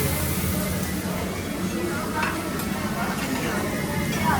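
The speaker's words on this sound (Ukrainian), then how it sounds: "смажуть м'ясо." Steady sizzling and hissing of meat frying on a hot grill at a resort buffet in Crete, a continuous crackle amid busy background chatter.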